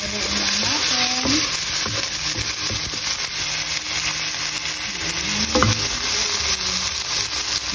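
Tomatoes frying and sizzling in a pan during fried rice cooking, a steady loud hiss with occasional stirring scrapes and clinks throughout, no voice heard.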